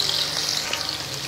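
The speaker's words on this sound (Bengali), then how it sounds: "চিংড়ি মাছগুলো ভাজা হচ্ছে" Prawns fry in hot oil in a wok, giving a dense, steady hiss and crackle that is close and fairly loud, with no voices.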